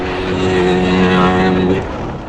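Steady, loud engine drone from a buggy on a ride at a playground in Kuwait, holding an even pitch close up before easing off at the end.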